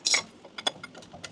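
A ratchet clicks in short uneven bursts at close range while a bolt is tightened on an HQ coupe floor replacement, quiet metallic ticks with small pauses between strokes.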